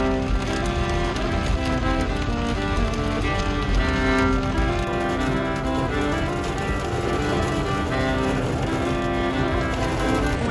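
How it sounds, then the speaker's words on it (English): A heavy downpour with tiny hail at Garden of the Gods makes a dense, steady roar of rain. It holds at full loudness without a break the whole time, with no voices. "So it's a downpour and tiny hail"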